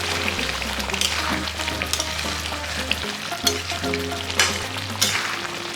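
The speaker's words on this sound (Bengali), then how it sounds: "এটা সুন্দর করে নাড়িয়ে দেবো এখন আমি।" Chicken sizzles loudly in a pan with fried cumin and coriander powder for a curd chicken dish, with close scraping stirs and frying crackle over a low steady hum.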